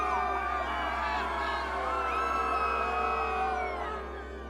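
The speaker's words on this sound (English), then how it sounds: "Give them a round of applause," Crowd of voices whooping, cheering and yelling together in a sustained, lively burst at close range that eases off toward the end.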